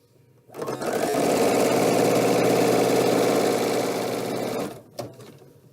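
A sewing machine joins quilting fabric pieces for a mug rug in one continuous run of fast, even, motor-driven stitching lasting about four seconds, close and loud, followed by a brief click as it stops.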